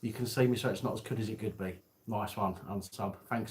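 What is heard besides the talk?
No everyday noises stand out.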